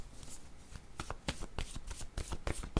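A deck of word cards being shuffled close up, a quick run of crisp riffling snaps and flutters over about three seconds, with no talking.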